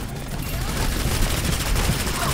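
Rapid automatic turret fire in an Overwatch match on King's Row: a dense, continuous rattle of shots, close and loud, with some voices in the background.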